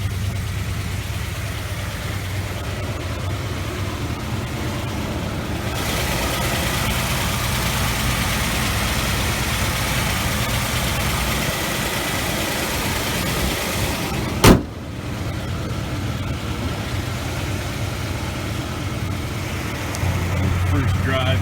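A 2011 Ford Fusion's engine running as the car is driven slowly around the block, a steady low hum heard from inside the cabin with one brief loud knock midway, with no talking.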